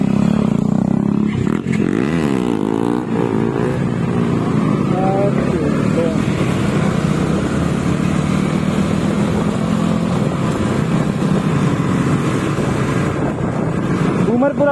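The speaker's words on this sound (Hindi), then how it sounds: "तो बूमर अभी व्हीली मारने वाला है।" A KTM Duke 250 motorcycle revs hard for a wheelie, its engine droning loudly and steadily with rising and falling pitch sweeps throughout, while voices can be heard faintly under the noise.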